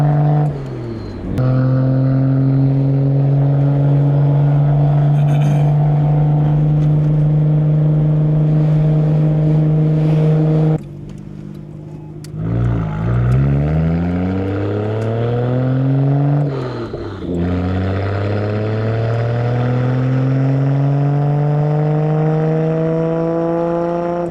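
A Nissan Skyline R32 GTR engine on a test drive idles steadily, then climbs through several loud, smooth revving pulls, with rising tones and brief drops between gear changes, close and with no talking over it.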